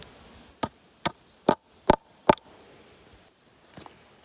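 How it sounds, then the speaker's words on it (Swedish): A hammer strikes an electric fence post five times at an even pace, sharp close knocks in a quiet outdoor setting, followed by a softer, fainter tap. "Hammare."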